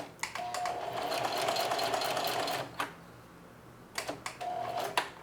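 A sewing machine back stitches slowly along the whole length of a thick apron strap, its needle whirring in two steady runs with a short pause between them, close and fairly quiet.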